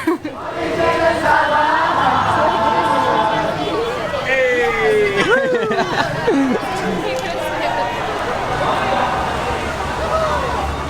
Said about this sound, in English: We are really just trusting the crowd and following the crowd.